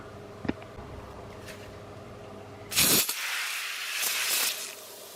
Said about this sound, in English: We'll give this a wash with the snow foam